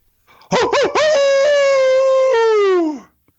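A person imitates a hound dog howl, Pennsylvania style: a loud, close, sustained vocal howl of about three seconds that opens with a couple of short yelping rises, then holds a long wavering tone and fades at the end.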